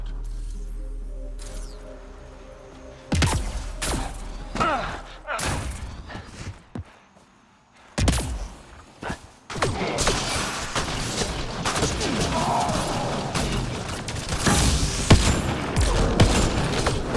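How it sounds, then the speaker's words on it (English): Rapid gunfire and heavy impacts erupt during a firefight in the video game Mass Effect Andromeda, loud bursts and thuds coming in dense waves after a quieter opening, with voices calling out underneath. "They're shooting us"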